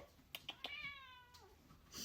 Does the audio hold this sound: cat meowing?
yes